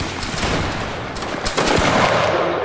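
Musket volley fire in a Napoleonic Wars video game, a loud, dense crackle of many near-simultaneous shots that swells into a second burst over a few seconds, with no talk.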